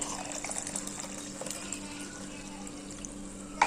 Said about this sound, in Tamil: நம்ம டேஸ்ட்டு தண்ணி எவ்வளோ வேணுமோ ஆட் பண்ணிக்கலாம்ல